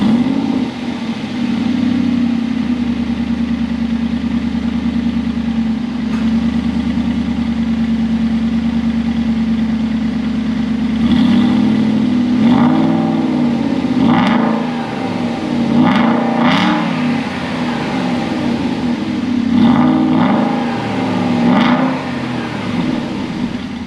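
An Aston Martin V8 Vantage with a fuse pulled, cold starting and settling into a steady, loud idle, then a series of sharp throttle blips rising to a few thousand RPM and falling back, all close by.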